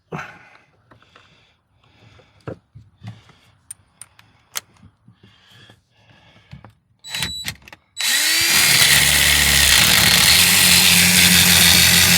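A power drill with a step bit, worked on an old dually shop truck, starts up loud and close after a stretch of quiet clinks and shop handling, then runs steadily to the end.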